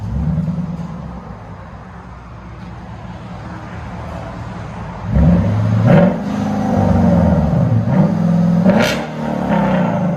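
A deep, loud straight-piped Hyundai Genesis 5.0 R-Spec V8 idles with a rumble, then revs sharply several times, the pitch rising and falling with each throttle blip.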